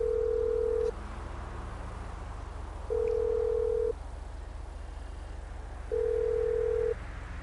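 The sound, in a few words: phone dialing in GTA Online video game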